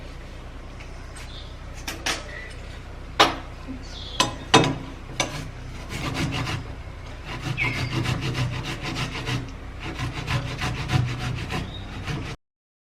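A tomato is grated by hand, giving rough, steady rasping strokes close by, mixed with a few sharp knocks and clatters early on, then continuous scraping until it stops abruptly.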